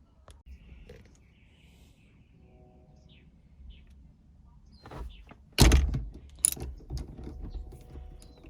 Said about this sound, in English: steering wheel should just pop right out with some force